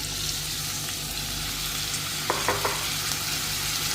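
Potatoes frying in mustard oil in a pan give a steady, even sizzle, with a few quick spatula taps near the end.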